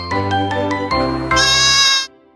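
Goat bleating on a farm, a long wavering cry that rises into a loud, strained call before cutting off, close and alone without talk.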